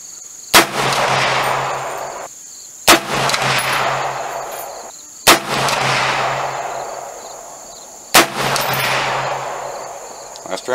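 Rifle fire from an AR10 or a Remington 700 in 7mm-08, four loud single shots spaced a few seconds apart, each a sharp crack followed by a long rolling echo that fades before the next.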